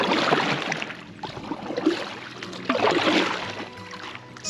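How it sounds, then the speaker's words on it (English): A Sea Eagle TC16 inflatable canoe is paddled solo with a double-bladed kayak paddle, close strokes splashing and swishing through the water in a repeating rhythm, alternating sides about every second. "I'm going to try a double blade paddle or a kayak paddle."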